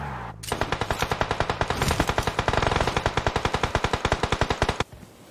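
Loud, close machine gun fire in a video game, a rapid unbroken burst of evenly spaced shots lasting several seconds before cutting off abruptly.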